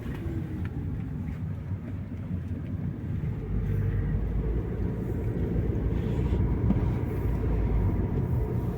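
Car driving through the streets of Kraków toward Wawel, heard from inside as a steady low engine and road rumble that grows slightly louder partway through, with no talking.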